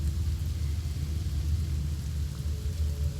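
Steady rain with a deep rumbling undertone in the fantasy role-playing game Divinity Original Sin, a continuous even wash of falling water at moderate loudness with no talk over it.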